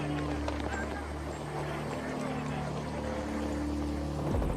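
A helicopter flies with a continuous droning rotor hum and steady engine tones, fairly loud and sustained throughout, with a voice speaking over it.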